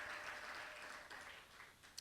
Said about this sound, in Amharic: አጨብጭቡለት ለጌታ ክብር።